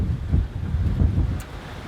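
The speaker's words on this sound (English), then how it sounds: "The wind is a little less than the other day." Wind buffeting the microphone on a sailboat reefed down in 17 to 22 knots, with rushing water and waves beneath, a continuous low roar in gusts, no talking.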